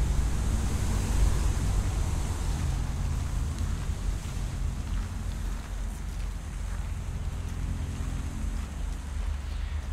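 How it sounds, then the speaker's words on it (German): Steady wind from the video game Kholat rushes and roars throughout, a dense, broad blowing noise with no letup and no voices. "jetzt hör doch mal auf mit deinem Wind hier"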